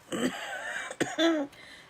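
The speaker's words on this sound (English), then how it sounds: "Sorry, trying not to cough." A person coughs and clears their throat a few times in quick succession, close and fairly loud, with short pauses between bursts.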